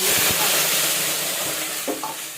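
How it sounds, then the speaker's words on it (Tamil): Cinnamon and cloves sizzle steadily in hot oil for a chicken gravy, a close, continuous frying hiss with a few soft stirring knocks and no talk. "எண்ணெய் காஞ்சது பட்டை கிராம் போட்டுக்கோங்க"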